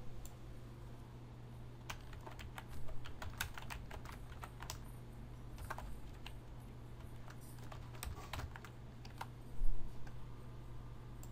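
Typing on a computer keyboard to enter a workspace name: rapid clustered key clicks in short bursts with pauses, close and fairly faint over a steady low hum, no voices.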